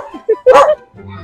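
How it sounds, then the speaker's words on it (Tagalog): Guard dog on a rural farm giving a few short barks and yips, close and fairly loud, with a low rumble trailing after. "May bantay pang aso si Jollibee, oh."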